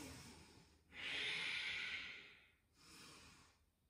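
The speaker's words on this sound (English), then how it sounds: "Deep ujjayi breaths," Deep ujjayi breathing in a yoga class: a long, loud, airy inhale, then a shorter softer exhale, close to the microphone with no talking.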